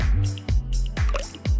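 The last few drops of a drink fall from a container, a handful of distinct, close drips spaced unevenly, each a short liquid plink.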